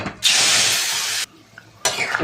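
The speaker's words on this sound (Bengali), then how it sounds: "এবার ঝোলটা ঢেলে দেবো" Fish curry gravy poured into hot oil with dried red chillies and fried cumin in a wok gives a loud, sustained sizzling rush for about a second, then dies to a quiet simmer before a second burst of hissing.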